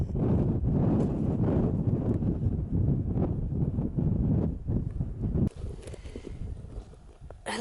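Wind buffets a microphone on a Pennine Way hill, a loud continuous roar and rumble that drops and turns thinner near the end.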